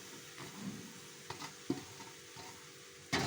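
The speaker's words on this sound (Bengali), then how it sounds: "এখন দিয়ে দেবো কুচিয়ে রাখা কচুর শাকটা" Chopped taro leaves stir-fried with ground chili paste and turmeric in a pan, giving a soft, faint sizzle with a few scraping stir strokes and a louder burst of frying at the end.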